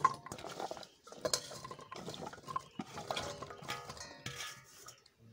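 Taro stolons drop into a rice cooker pot with a busy run of clinks, scrapes and stirring knocks of metal and utensils, close and moderately loud.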